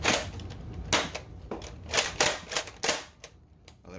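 Adventure Force Conquest Pro foam dart blaster firing and jamming, a run of sharp mechanical clacks and snaps at an uneven rhythm, close and fairly loud, with no talk.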